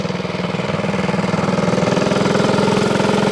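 A pre-war Vincent HRD Comet 500cc single-cylinder motorcycle engine runs steadily close by, a loud, even rapid thumping pulse throughout with no talk.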